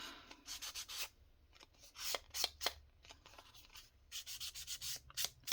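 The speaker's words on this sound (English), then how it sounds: "just gonna sand it a little bit and give it a little bit more" A paper over-the-page pocket being sanded by hand: short, dry scratchy rubbing strokes in quick bursts, close and fairly quiet, with brief pauses between them.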